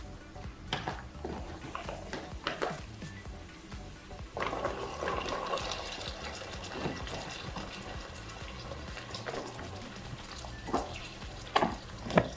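Carrots tumble into a pan of sizzling garlic. A fizzing fry swells and grows busier midway, with clattering stirs and scrapes throughout and a couple of louder knocks near the end.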